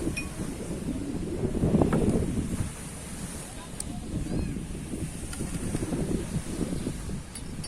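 Wind gusts by the sea, rumbling low and buffeting close against the microphone, swelling stronger midway, with faint water and occasional light clinks in the background.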